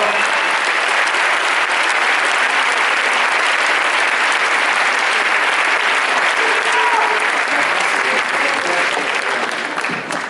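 Dense, sustained applause from a cinema audience at a film premiere fills the room, even and loud throughout before easing slightly at the very end.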